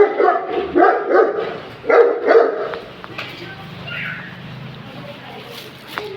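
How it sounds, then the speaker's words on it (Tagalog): Several sharp dog barks come in quick succession up close, then fade into quieter background noise. "May aso!"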